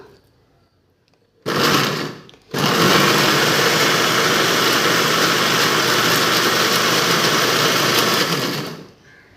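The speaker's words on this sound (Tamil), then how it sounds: "இப்போது மிக்சி ஜாரில் போட்டு மாதுளை முத்துக்களை அடிச்சுக்கலாம்" An electric mixer grinder blends pomegranate seeds in its jar, giving a brief loud burst of motor whir, then a short pause, then a long steady roar that cuts off after several seconds.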